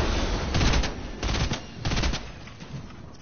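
Bursts of rapid gunfire from the video game Fortnite, several clusters of shots fired in quick succession at moderate loudness, with no talking over them.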